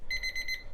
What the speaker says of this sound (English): that's my alarm for what used to be the dog's blues medicine